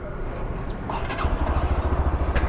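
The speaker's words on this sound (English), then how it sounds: "let's hear the exhaust note and go for a short ride" Single-cylinder exhaust of a Bajaj CT 110X 110cc motorcycle idling close by, a steady low pulsing thump that firms up after the first second, with no talk over it.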